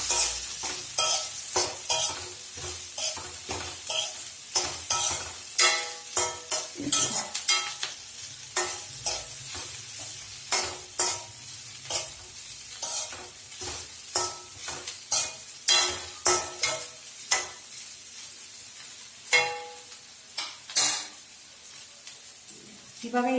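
Okra being stirred as it fries in a pan with onions, a steady sizzle under a long run of repeated scraping strokes from the spatula, close and fairly loud with no talking.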